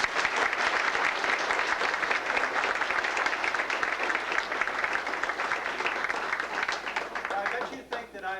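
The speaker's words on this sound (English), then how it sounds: "join me in one final round of applause for all of the folks from the U.S. Postal Service who do such an extraordinary job for us" A seated audience gives a warm round of applause for U.S. Postal Service workers, with dense, steady clapping that fills the room for several seconds before tapering off as a voice begins.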